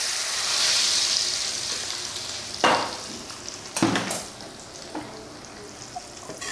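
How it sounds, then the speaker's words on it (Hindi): Hot oil hisses steadily, then a couple of sharp splashing bursts as spiced tempering is poured into a pan of Punjabi chole, followed by continued sizzling and light stirring. "ये डाल देती हूँ मैं इसमें तड़का"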